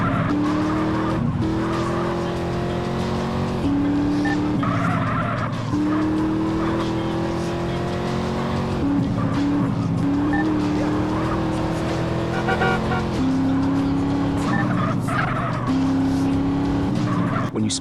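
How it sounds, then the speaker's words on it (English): Cars racing in GTA San Andreas during a chase mission, engines revving hard through repeated gear shifts with tire skids and squeals, loud and continuous, with some talk in the background. "after taking over the target car, enemy vehicles will start chasing you"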